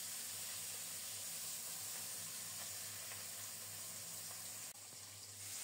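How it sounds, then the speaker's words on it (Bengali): Pabda fish, rubbed with salt, turmeric and mustard oil, frying in hot mustard oil in a wok: a steady broad hissing sizzle, close and continuous, briefly dipping near the end, with no talk. "তেলে ছেড়ে দিলাম, এপিট ওপিট করে লাল লাল করে ভেজে নেব।"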